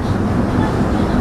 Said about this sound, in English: we're on the train going to the